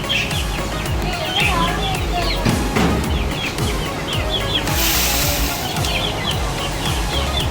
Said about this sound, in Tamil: மக்களே எவ்வளோ கோழி பாருங்க